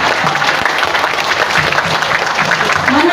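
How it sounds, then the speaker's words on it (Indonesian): Audience applause for Anies Baswedan at a Hari Pahlawan gathering in Surabaya, a steady crowd clapping with scattered voices mixed in. "Pak Anies tepuk tangan dulu, sepi banget."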